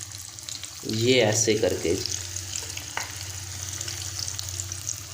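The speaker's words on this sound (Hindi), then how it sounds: "अब यहाँ पे हम फ़िश को जो है ये पैन के अंदर रखेंगे।" Fish fries in a pan for a Lahori masala fish fry, a close steady sizzle with crackling as the fish goes in, while someone speaks over it.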